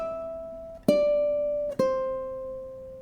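Ukulele plays a short pentatonic phrase: two bright plucked hits, the second syncopated, each ringing out and decaying, with pitch sliding between notes, clean, alone and close.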